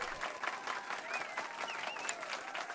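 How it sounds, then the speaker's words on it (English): Steady applause from a video game crowd in Final Fantasy VII Rebirth, dense clapping throughout with a faint chirpy tone above it, moderately loud and continuous. "a round of applause"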